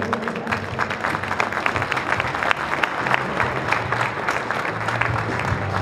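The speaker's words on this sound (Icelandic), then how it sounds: "við gefum það gott klapp" Spectators at an Icelandic horse show applaud five horses with sustained, even clapping, a steady crowd wash with faint voices underneath.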